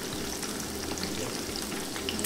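A buttery dipping sauce for fried coconut lobster bites sizzles and bubbles steadily in a pan, a close, even crackling fry with small popping bursts continuing throughout.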